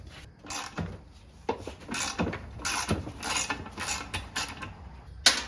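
A fill bolt is worked loose from a Getrag 260 gearbox, with close, repeated metallic clicks and ratcheting ticks coming in short irregular bursts over a steady low background.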